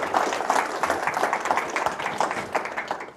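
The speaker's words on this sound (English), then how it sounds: "Give him a warm applause." Warm audience applause after a talk, many hands clapping steadily and densely for a few seconds, close and fairly loud with no speech over it.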